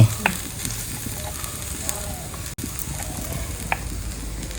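Thoran with a coconut mixture sizzles and crackles as it is stir-fried in a pan, a steady close frying hiss with occasional scraping stirs, no talk.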